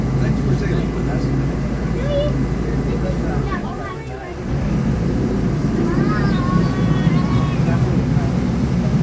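A tour boat cruises past the Magic Kingdom monorail resorts, its steady engine rumble and water wash running throughout while voices talk over it and a brief dip falls midway.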